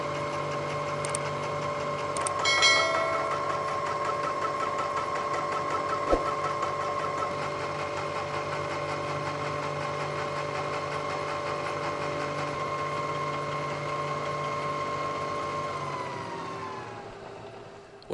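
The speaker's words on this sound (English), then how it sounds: "I'm going to use the fly cutter here to clean up the top and bottom surfaces." A fly cutter on a Bridgeport mill faces the top and bottom surfaces of a metal drive gear spacer, giving a continuous whirring drone with steady tonal ringing from the cut, winding down near the end.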